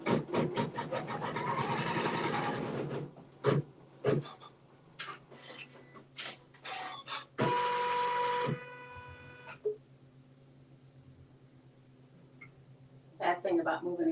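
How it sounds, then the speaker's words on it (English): Sewing machine stitching a quilt seam on fabric, a rapid mechanical whirring run near the start, then short bursts and pauses with occasional thumps and a mid-clip whir, with scattered quiet talk in between. "Let it stitch a seam."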